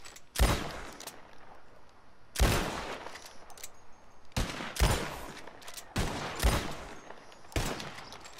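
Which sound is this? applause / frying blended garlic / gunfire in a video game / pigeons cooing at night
gunfire in a video game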